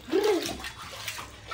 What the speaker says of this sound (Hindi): ये और देखिए रईसमा इसी में पानी भी नहा रही है।